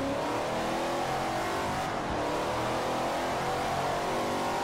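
A Plymouth Barracuda in Forza Motorsport 4 roars at a steady high rev, with a loud, continuous engine drone that holds throughout and only a brief dip midway.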